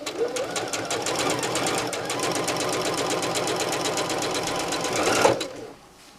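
A sewing machine runs steadily and close for about five seconds, stitching a sofa throw quilt with a rapid, even mechanical rhythm, then stops.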